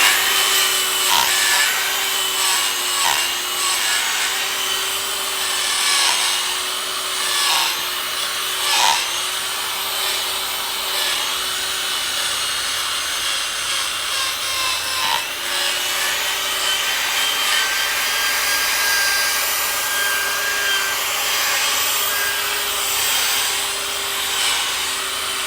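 A stiff brush works dry over chair upholstery to loosen dust, making a continuous close scrubbing and rubbing sound with quick repeated strokes and a faint steady mechanical hum underneath.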